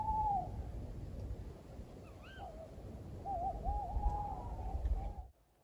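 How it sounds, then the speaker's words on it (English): Owls call at night, a few wavering hoots and trills rising over a low steady rumble, moderately faint and distant, with no voices. "I could hear the night calls of the owls going tweet, choo."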